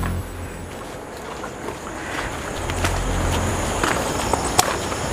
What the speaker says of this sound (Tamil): அது அலை சத்தம்ப்பா.